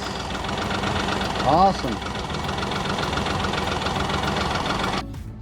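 A Honda BF30A 30hp outboard engine idling after a carburetor and intake overhaul, a steady close rumbling drone with a knocking undertone, briefly under a short spoken remark.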